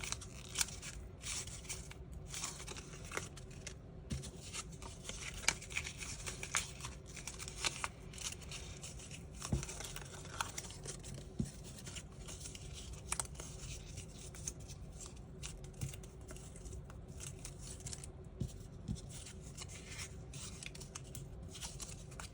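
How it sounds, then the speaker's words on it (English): Pieces of paper being crumpled by hand one at a time, giving soft, irregular crinkles and rustles at close range against quiet background hiss. "And then just crumple them all up."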